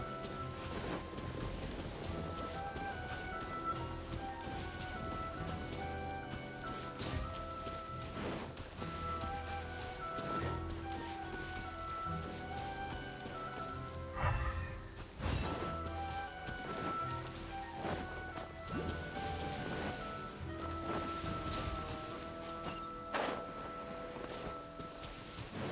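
Rain falls in the Genshin Impact video game as a soft, continuous patter with occasional low rumbles, faint and steady beneath tonal game music.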